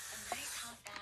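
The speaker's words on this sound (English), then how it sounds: "So I spray down my watercolor paint with a spray." A spray bottle mists pan watercolor paints, giving a short close hiss of spray followed by a couple of quick fainter bursts, heard alone.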